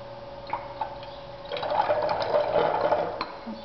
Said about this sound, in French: Et je vais compléter avec de l'eau pour diluer ma solution. Alors je verse